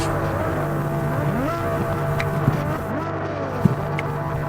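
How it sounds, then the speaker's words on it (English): Several Formula 3 race car engines in a racing video game rev and drone together, a dense steady mechanical whine with pitch sweeps and short blips as the cars wait before qualifying. "You can hear them revving their engines, keeping their engines warm"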